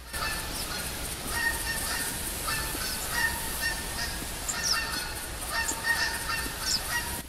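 Geese in theHunter hunting game honk repeatedly at mid distance, irregular calls rising over a steady outdoor ambient bed, with no speech.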